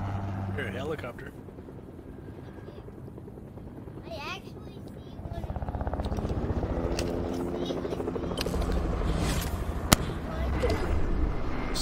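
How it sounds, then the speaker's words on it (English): A helicopter in the Fortnite video game drones with a steady rotor chop that grows louder partway through as it draws near, heavy low thumping throughout, with a few game sound effects and a sharp click over it. "Here, a helicopter."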